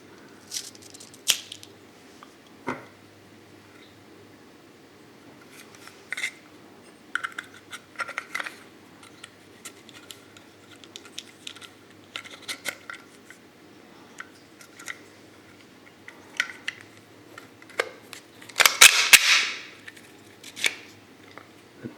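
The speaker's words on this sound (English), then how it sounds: "Magazine loaded with 10 rounds of M1 30 carbine ammo." Cartridges of South Korean surplus M1 .30 carbine ammunition being stripped from a slightly tarnished metal clip into a magazine, a scattered series of close metallic clicks and scrapes over about twenty seconds, with a louder rattling burst near the end.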